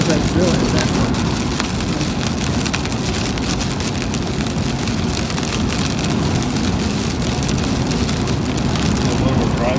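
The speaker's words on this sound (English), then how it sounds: "It's just rain and hail." Heavy rain mixed with hail hammers a vehicle driving through a severe storm in Oklahoma, a dense, constant roar with rattling impacts that holds steady and loud throughout, with faint voices beneath.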